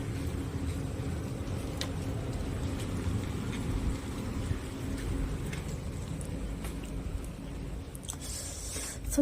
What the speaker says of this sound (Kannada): ಹೊರಗಡೆ ಮಳೆ ಬರ್ತಾ ಇದೆ